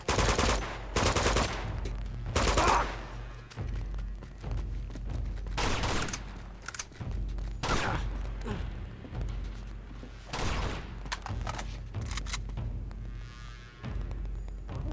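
Gunfire in Uncharted 2: Among Thieves as snipers and a pistol trade shots. Repeated loud cracks and rapid volleys come in bursts across the stretch, with brief lulls between.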